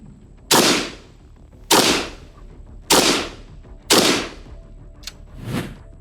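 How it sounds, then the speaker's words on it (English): An AK rifle fitted with a fully closed flash hider fires five single shots from the prone position outdoors, each a sharp loud crack with a short decay, spaced about a second apart. "So now you can see the difference between shooting a muzzle brake laying down and shooting a fully closed off flash hider laying down."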